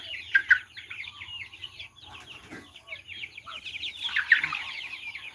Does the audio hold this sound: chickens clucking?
yes